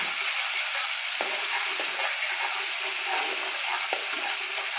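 Masala frying in a pan for doi katla, a Bengali rohu fish curry in yogurt, gives a steady broadband sizzle with a few soft stirring knocks, close and continuous with no talk.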